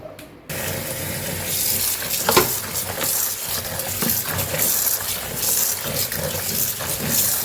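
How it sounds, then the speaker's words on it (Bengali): Leafy greens being washed by hand in a basin of water, a steady sloshing and splashing with rustling leaves, fairly close and continuous after a brief quiet start. "এটা গামলাতে করে ঢেলে নিই, তাহলে শাকের গায়ে মানে শাকের পাতায় যে কাদা বা বালি টালি থাকে ওগুলো পরিষ্কার হয়ে যাবে"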